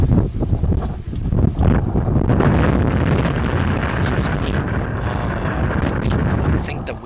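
Gusting wind buffets the microphone at an outdoor lawn bowling final, a loud, continuous rumbling roar that swells and eases throughout.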